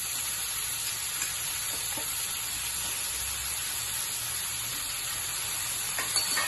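Spring onion stalks and flat beans fry in a pan for a mixed vegetable fry, giving a steady, close sizzle with a soft hiss that runs evenly throughout with no voices.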